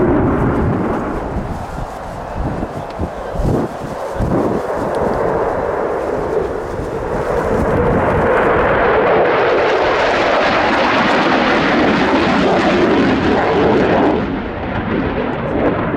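An F-16 flies a display at the Royal International Air Tattoo on full afterburner, a loud, swelling jet roar that builds and sweeps past with a harsh rushing hiss, with no voices.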